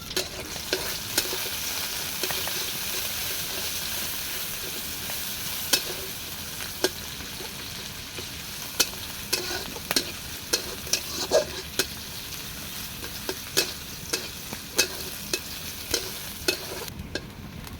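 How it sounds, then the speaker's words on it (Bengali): Chopped onions fry in mustard oil with a steady, close sizzle, broken by frequent clicking knocks of a utensil stirring the pan, and no voices. "আমার পেঁয়াজ ভাজা হয়ে গেছে"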